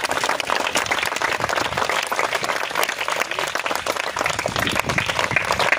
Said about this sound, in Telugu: ముంతాజ్ గారిని, వారి బృందాన్ని మనము చప్పట్ల ద్వారా ఆహ్వానించుకున్నాం